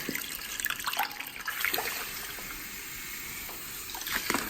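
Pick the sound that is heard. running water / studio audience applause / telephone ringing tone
running water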